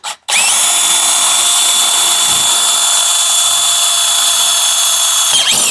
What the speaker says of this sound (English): So I'm just drilling a hole right beside it,